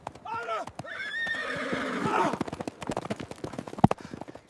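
A horse gives a loud, drawn-out whinny up close, followed by a quick run of sharp hoof clip-clops that continues to the end.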